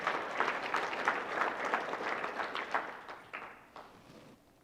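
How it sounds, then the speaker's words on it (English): A conference audience applauds as two guest speakers from an accounting firm are welcomed up, a steady crowd clapping at moderate distance that gradually fades out over a few seconds. "Maybe give them a round of applause for being so nice to be here."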